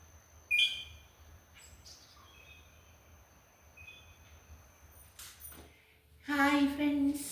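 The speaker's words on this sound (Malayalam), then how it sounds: "കിളികളെല്ലാം നല്ല ഒച്ചയടിയിലാണേ." Birds calling after rain: faint, scattered chirps and tweets spread through a quiet outdoor scene, with a voice rising near the end.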